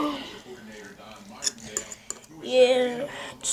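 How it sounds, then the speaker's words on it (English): Microwave noodles with gravy stirred in a bowl, a few scattered clinks and scrapes of utensil against dish mixed with someone talking nearby. "stir it up real good. So you get the gravy all in there."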